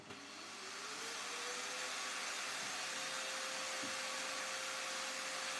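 A robot vacuum cleaner runs indoors with a steady, loud whirring hum that swells up in the first second and then holds constant with no talking.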